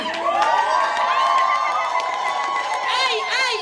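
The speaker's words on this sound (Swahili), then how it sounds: "Shangwe na vigeregere kwa Yesu" A lively crowd at a Christian worship gathering cheers with high trilling ululations rising near the end, a continuous joyful clamor of many voices.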